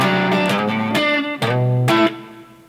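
Electric guitar playing measure 14 of a song in a lesson, a short phrase of sliding chords and bent notes, close and clear with no talking.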